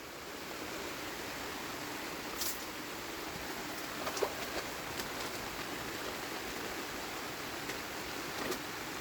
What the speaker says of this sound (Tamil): ஐயோ பெரிய மழையா வருதுடா